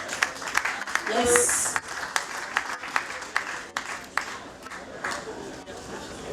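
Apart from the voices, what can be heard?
audience applause at an award ceremony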